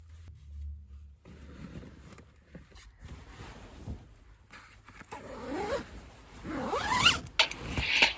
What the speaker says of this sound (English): Next, I zipped up my sleeping bag and put it in my homemade bag.